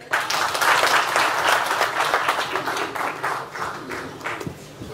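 An audience at a Cameroon National Day celebration in Copenhagen claps together in dense, sustained applause that thins out near the end.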